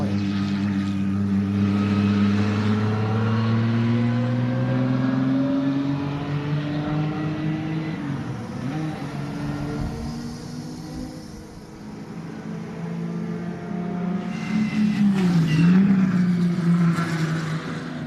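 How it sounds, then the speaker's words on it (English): A Dodge Intrepid engine fitted with headers runs at full throttle at a speed festival on a race ring, a loud sustained growl with rising and falling pitch as it passes, swelling again near the end. "What would a Dodge Intrepid sound like if we put headers on it and ran it full throttle?"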